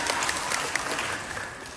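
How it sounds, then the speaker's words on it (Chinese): An audience at a crosstalk comedy show claps in a brief, dense burst of applause, steady and moderately distant, with no voices on top. "让大伙儿鼓鼓掌"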